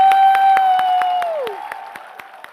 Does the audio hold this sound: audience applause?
yes